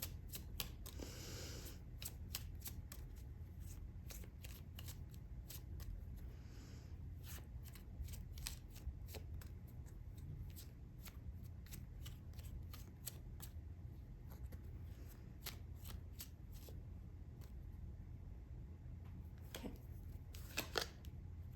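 Tarot cards are shuffled and drawn in a steady run of crisp riffles, slaps and flicks, close and quiet, with no talking throughout.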